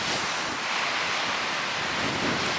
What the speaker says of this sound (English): Today is a windy day. It's about 70 degrees, and the wind is blowing.